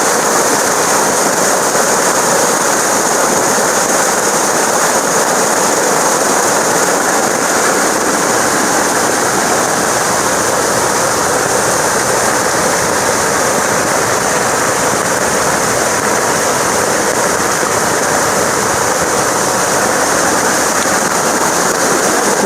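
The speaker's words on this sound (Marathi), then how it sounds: "मित्रांनो नदीच्या इकडे आलोय आणि पाणी बघा आता किती आलंय ते." A river swollen by continuous rain rushes past, a loud, steady, broadband roar of water that stays unchanging throughout.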